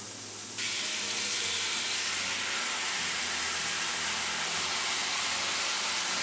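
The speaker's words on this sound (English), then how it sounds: "Now we just want to brown the vegetables." Vegetables browning in a pan for a sauté sizzle with a steady, loud, hissing roar that continues without a break, close to the pan.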